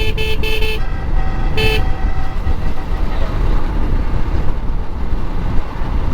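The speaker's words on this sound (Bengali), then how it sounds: "পিছনের ওই যে গরুবাহিত ভুটভুটিটা হর্ন দিয়েই যাচ্ছে" A bullock-drawn bhutbhuti vehicle behind on a rural road gives a few short, loud horn toots near the start, then only steady road and wind rumble continues.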